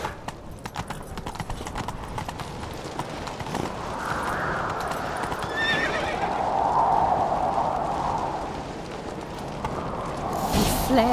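Horses neigh and whinny amid hoofbeats and general commotion in The Witcher 3, fairly loud, with some background voices mixed in.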